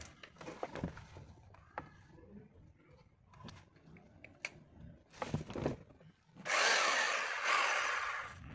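Ryu RRH 26 rotary hammer drill on a test run, short bursts of whirring and clatter broken by handling knocks, then a loud sustained drilling run near the end, close by.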